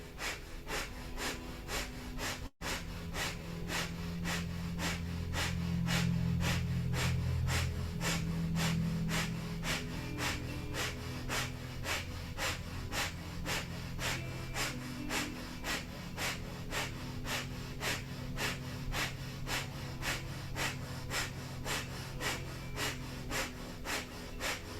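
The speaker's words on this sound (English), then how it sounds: "we'll begin long, deep breathing or breath of fire in half bow" Breath of fire yoga breathing held in half bow pose: rapid, forceful nasal exhalations pump in a fast, even rhythm for a long stretch over a low, steady musical drone.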